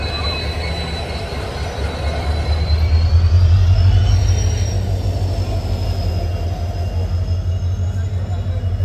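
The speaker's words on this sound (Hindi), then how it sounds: "देखिए कमिंग हो चुका है प्लेटफॉर्म नंबर एक पे तो इन डीजल इंजन के साथ" Diesel-hauled passenger train pulling into platform one at Jaunpur Junction, a loud rolling rumble of wheels and cars swelling mid-clip with faint high wheel squeal, no speech in between.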